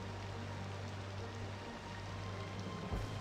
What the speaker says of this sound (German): Aber es regnet ja dann nur.